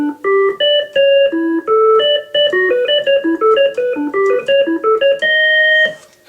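Hammond organ set with three drawbars to mimic a medieval-style clarinet, playing a clear, reedy melodic line of short and held notes, loud and alone with no talking.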